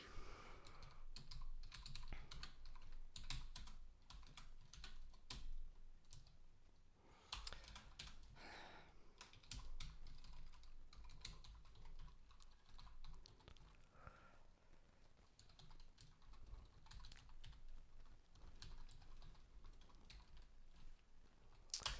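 Continuous typing on a computer keyboard while coding a Vulkan triangle program in C, a dense, quiet patter of key clicks with brief pauses, close and alone.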